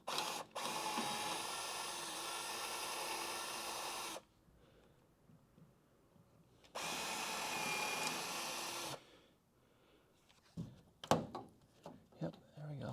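A drill bores out rivets during a Crew Cab Charger restoration, giving two long, loud, steady whining runs with a pause between them, followed by clanks and scrapes of metal.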